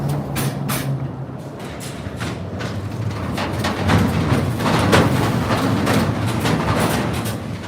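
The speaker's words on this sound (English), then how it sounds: "All right, bus is coming now." City bus rolling over a bridge in Maspeth, Queens, a heavy low rumble with rattling and a hiss of air brakes that builds and stays loud as the vehicle passes close by.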